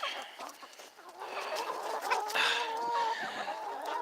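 Hens cluck and squawk close by in a backyard flock on a cool day, a steady chorus of overlapping clucks with a few louder calls, no talk over them.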